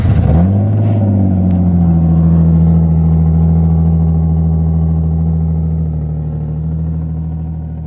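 A car engine cold-starts after an O2 sensor repair, catching quickly and settling into a loud, steady high idle that stays close and constant.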